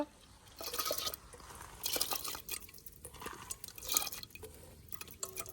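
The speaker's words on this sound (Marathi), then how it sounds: "हे डाळ धुवून घेतली. आता टाकतो." Washed lentils (dal) poured into a pot for idli sambar, wet splashing and dripping in short bursts of liquid with light clinks, fairly quiet and close, no talk.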